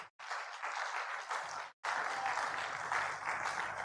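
Audience applause during a live money-week event session in Port Harcourt, steady broadband clapping filling the room with a brief break near the start and another short dropout before it resumes at full strength.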